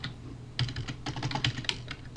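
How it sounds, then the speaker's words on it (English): Keystrokes on a computer keyboard as text is entered, a quick irregular run of clicky taps close to the microphone over a quiet room background, with no talking. "I'm just going to type Happy Halloween! Exclamation point."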